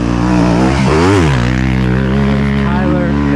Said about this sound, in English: got some bikes coming by. Let's let the bikes pass.